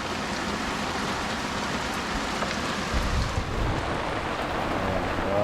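Heavy rain pours down steadily and close, a dense continuous wash with a slight surge partway through and no voices.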